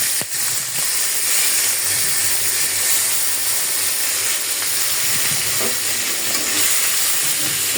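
Shrimp frying in a kadai with salt, a loud steady hiss and sizzle filling the scene from start to end, close and uninterrupted, with no talk.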